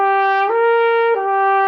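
Trumpet playing three slurred notes on one unbroken stream of air, the pitch stepping smoothly from one to the next without separate attacks; close, steady and loud.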